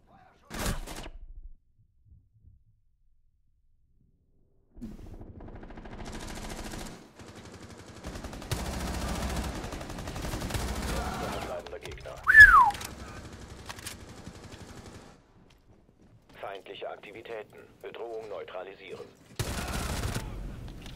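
Gunfire in Rainbow Six Siege: rapid automatic bursts and volleys come in separate clusters after a quiet gap, with a sharp louder crack midway and talk at times.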